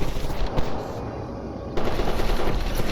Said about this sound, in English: I heard gunfire